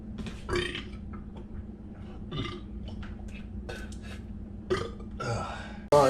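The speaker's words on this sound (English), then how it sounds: "trying to get these burps out." A man lets out several burps after eating, short guttural belches scattered over a low background hum, close by, with faint clinks of dishes.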